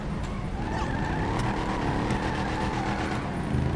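A car in GTA 5 Online skids and slides into a wall, giving a continuous loud engine roar mixed with tire scrubbing and faint squeals, sustained and close with no talking.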